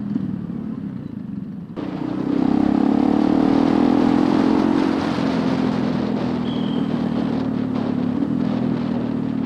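A motorcycle engine on a busy road rises in a throttle blip and rev match during a downshift, a loud steady engine drone swelling after a quieter start and holding near and continuous.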